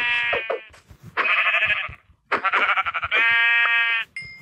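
Sheep in the Minecraft video game bleat several times in a row, loud and close, with brief gaps between the calls.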